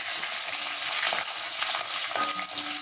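Small shallots and dried red chillies frying in hot oil with urad dal for a turkey berry chutney, a dense, close, steady sizzle broken by occasional stirring scrapes.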